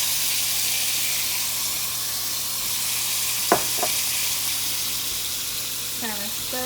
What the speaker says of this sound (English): you're going to saute this for 20 minutes